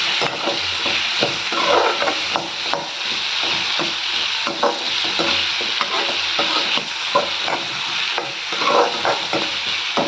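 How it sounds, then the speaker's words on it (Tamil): Curry leaves fry and crackle in hot oil in a pan for a Tamil mutton kulambu, with steady loud sizzling and a spoon stirring through it for the whole stretch, no voices. "சேர்த்து நல்லா வறுத்துக்கலாம்."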